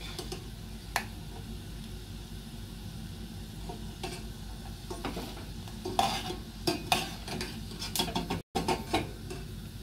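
Spicy peanuts fry in hot oil with a soft, continuous sizzle, broken by occasional scraping stirs and light ticks of a utensil against the pan. Quiet and steady, with no talking.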